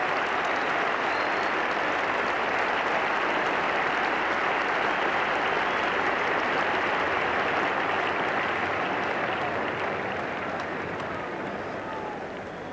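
A large cricket crowd at Lord's applauds Ian Botham as he walks into the pavilion, steady, dense clapping that fills the ground for the whole stretch and eases only slightly at the end.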